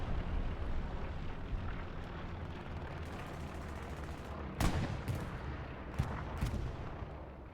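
Artillery fire in the online war game Hell Let Loose rumbles as a dense, continuous wash of battlefield noise, with a few sharp, louder blasts standing out near the end.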